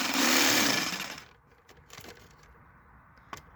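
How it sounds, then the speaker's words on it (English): A jigsaw cuts a lock hole in a homemade pop-up truck camper with a loud, harsh burst of cutting for about a second. The saw then stops and a few scattered knocks and taps follow. "Over here I'm using my jigsaw to cut the hole."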